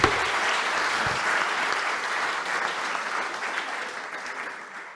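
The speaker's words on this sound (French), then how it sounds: "On peut applaudir très fort parce que..." Loud, steady applause from an audience at a retail customer-satisfaction awards ceremony, sustained clapping for about five seconds and fading slightly near the end.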